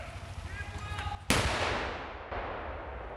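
A sharp, loud blast of gunfire during military city-defence training in Volyn, Ukraine, cracks out and rolls into a long echo, followed by a second fainter report, with voices before it.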